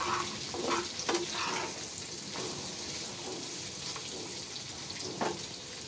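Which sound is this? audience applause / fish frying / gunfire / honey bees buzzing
fish frying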